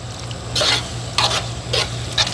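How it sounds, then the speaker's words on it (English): Whole milk is stirred into a pot to deglaze browned bits off the bottom: four rhythmic, close scraping strokes of a spoon through the liquid, each a short swishing burst over a low steady hum. "Using it to also deglaze some stuff off the bottom there."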